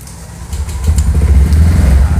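A cold motorcycle fitted with a Juken 5+ carburetor is hit with the electric starter, and after a brief whir its engine catches into a loud, close, rough low rumble that carries to the end.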